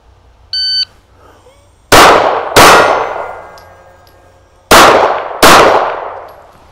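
Four loud handgun shots fired at targets from the left side of a barricade during a Michigan police qualification course, in two quick pairs about half a second apart, each with a ringing outdoor decay, after a short electronic start beep.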